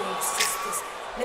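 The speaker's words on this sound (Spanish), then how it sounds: "La gente gritando como loca normal." Concert audience screaming and cheering for a singer performing in 2023, a steady wash of crowd noise with brief high whoops rising through it.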